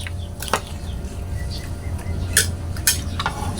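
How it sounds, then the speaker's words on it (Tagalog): Raw parrotfish being stirred with salt and pure vinegar for kinilaw makes a few close utensil clinks and scrapes against a bowl over low background hum. "At haluin po natin"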